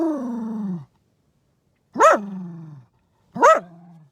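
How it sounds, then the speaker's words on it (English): A dog on a beach barks at a car driving across the sand: three loud, close barks with a growling tail, the first one long and drawn out, followed by two sharp yelps separated by silence. "dog's barking"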